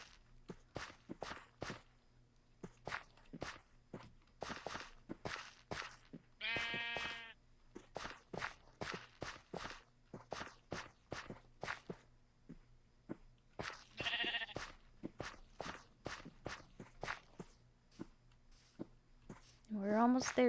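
In the Minecraft video game, footsteps tap along quietly and steadily while sheep let out three separate wavering bleats, the last one louder and closer.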